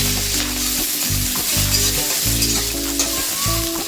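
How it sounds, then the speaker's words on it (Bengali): Green chili, ginger and capsicum sizzle loudly in hot oil for oats khichuri, with a constant crackle close by while a spatula scrapes the pan in repeated rhythmic strokes. "এবার ভালোভাবে ভেজে নিতে হবে।"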